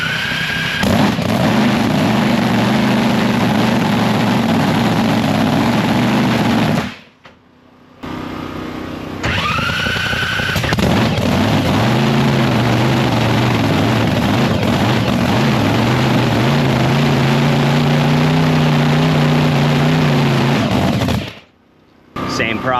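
A loud alcohol-injected drag race boat engine roars and revs unevenly, cutting out briefly twice before firing back up, close and dominant.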